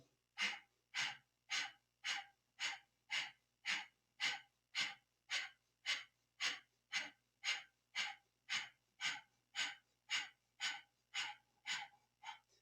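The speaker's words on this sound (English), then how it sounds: "keep the breath going" Steady, rhythmic breaths during a Kundalini yoga exercise, about two per second with sharp, even pulses repeating close and clear for the whole stretch.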